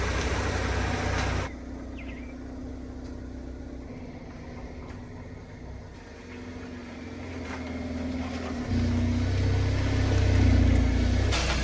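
A Hyundai Elantra N is driven into a garage, its engine running at a low steady idle and rising slightly, with changes in tone as the car moves, no talk.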